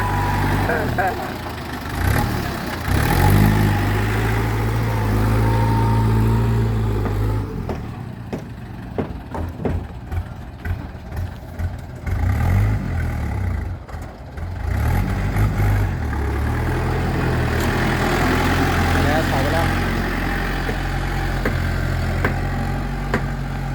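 A tractor engine idles and then revs up hard in repeated surges, loud and close, its rumble running continuously throughout.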